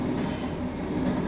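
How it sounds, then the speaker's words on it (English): A train passes close by a house, a steady loud rumble with rail noise filling the whole span, no talk over it. "Train's going by right now"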